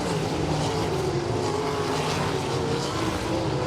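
Sprint cars race at Winston Speedway, their engines a loud, continuous high-revving roar as the pack circles through the turns amid lap traffic.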